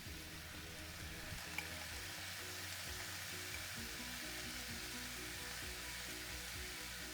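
Red curry paste with coconut cream frying in a pan for a tofu Thai red curry: a continuous soft, even sizzle, faint and steady throughout, with no voices.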